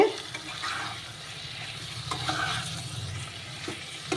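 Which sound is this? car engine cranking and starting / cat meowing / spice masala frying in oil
spice masala frying in oil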